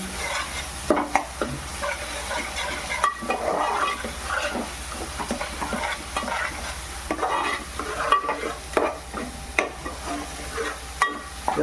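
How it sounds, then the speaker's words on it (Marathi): Ginger and garlic paste frying in a pan for a chicken rassa thali, a constant close sizzle punctuated by frequent spatula scrapes and knocks against the pan, no voices heard. "लसूण पेस्ट टाकते आणि हे पण आपल्याला शिजून घ्यायचे लसूण आणि अद्रक ते"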